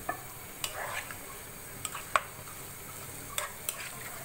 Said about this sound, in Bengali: সব মাংসগুলো প্যানে দেওয়ার পরে আমি একটু নেড়ে দিচ্ছি